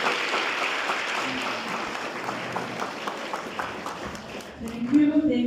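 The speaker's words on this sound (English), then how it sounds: "I think he deserves another round of applause." An audience at an annual academic award ceremony applauds after a keynote address, a moderate, even wash of clapping that thins slightly toward the end as a voice and other sounds come up.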